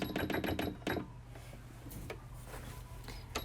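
Domestic sewing machine running a normal-length stitch along the fabric edge, with a burst of rapid mechanical stitching at the start, then quieter whirring and clicks continuing over a low motor hum.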